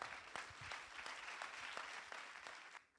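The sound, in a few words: audience applause welcoming an actress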